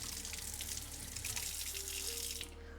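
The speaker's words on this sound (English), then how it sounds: "Rinsed off my knife, off of all of that sugary peach stuff." Tap water runs steadily from a kitchen faucet while a knife is rinsed of sticky peach juice after fruit salad prep, a broad continuous hiss that cuts off near the end, leaving a low hum.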